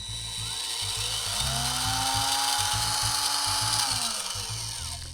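Dremel rotary tool spun up to 15,000 RPM while building a brass chassis for a 1/32 scale Cheetah model car, a steady high whine held close and loud throughout, with a low pulsing hum underneath.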